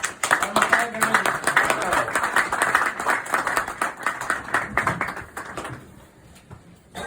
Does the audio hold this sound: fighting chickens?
no